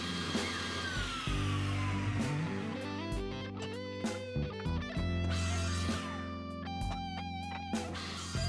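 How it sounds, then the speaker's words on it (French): A circular saw with its blade tilted to 8 degrees cuts pieces of wood for guitar neck joints, a loud nearby whine with shifting pitch and rattling, broken by short pauses and renewed bursts of cutting. "On règle la lame de la scie circulaire à 8 degrés pour pouvoir"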